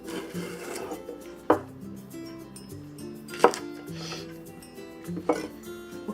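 A knife cuts green onions into sections on a cutting board, giving three distinct sharp chops spaced about two seconds apart over quiet background hum, with some faint rubbing between strikes.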